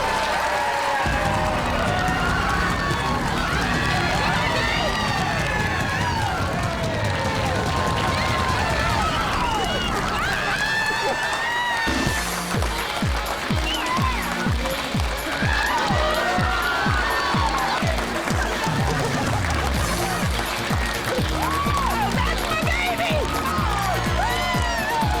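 Studio audience applauding and cheering at the finish of a man's extreme cosmetic makeover, with a loud, continuous crowd roar, whoops and clapping filling the whole stretch while voices and music-like tones run underneath.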